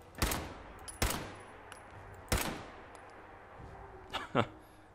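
Gunfire from a cheap, weak gun in Fallout 4 rings out as four or five sharp, separate shots in an irregular rhythm, each leaving a short echoing tail over quiet background.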